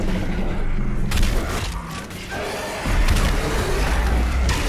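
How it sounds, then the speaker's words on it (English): Booming shotgun blasts and combat noise from the DOOM Eternal starting shotgun, loud and dense with heavy low-end thumps, a brief lull midway, then renewed firing and action sounds. "You've got this simple shotgun, which is your weapon that you start off with"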